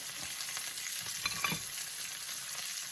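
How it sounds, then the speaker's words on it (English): Bacon fries in a non-stick pan with a steady, close, bright sizzle and a few louder pops near the middle, with no talking. "what I do with my bacon, as you can see, it's really popping up and everything"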